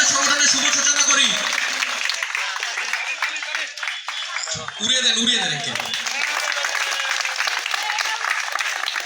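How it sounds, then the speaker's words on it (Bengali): An audience claps together at a youth organisation's opening ceremony, a sustained burst of applause that dips briefly and then swells again, with a voice speaking over part of it. "সবাই একটু করতালি দিয়ে আমাদের সংগঠনের শুভ সূচনা করি"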